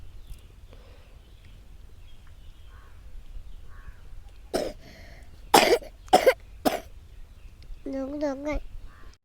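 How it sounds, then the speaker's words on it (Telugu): A few sharp, close coughs burst out in quick succession in a quiet indoor kitchen, followed by a brief wavering vocal sound. "మీకు దగ్గు వస్తుందా"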